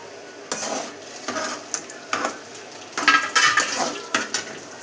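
A spoon scrapes and clatters against a pan while pirandai (adamant creeper) is stirred in hot oil, the strokes coming in uneven bursts over a faint background.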